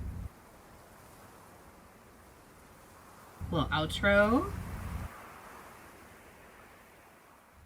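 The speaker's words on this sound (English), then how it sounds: "Little outro with the waves, which I always appreciate a good wave sound." Ocean waves in the outro of a music video: a soft, steady wash of surf, with a person speaking briefly over it midway before the waves continue alone and fade lower.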